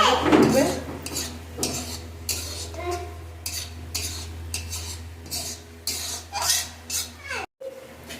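A spoon stirring mihidana into sugar syrup in a metal pan, repeated scraping and clinking strokes close by with a steady low hum underneath.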